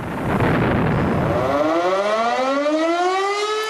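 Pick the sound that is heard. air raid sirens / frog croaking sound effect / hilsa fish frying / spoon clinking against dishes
air raid sirens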